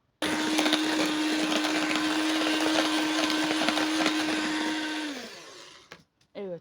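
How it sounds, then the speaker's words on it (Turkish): Electric mixer whisking a mixture until white and foamy, a loud steady whine running for about five seconds before winding down, followed by a couple of brief knocks. "Bunu beyazlaşıncaya kadar iyice köpük köpük olana kadar çırpacağız."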